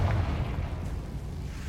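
In Hogwarts Legacy, a Confringo explosive spell goes off as a deep, rumbling boom that rolls on as a dense, loud blast for the length of the moment.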